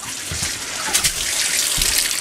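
Water running from a shower in a home, a loud, steady hissing spray with slight splashing fluctuations and no voices.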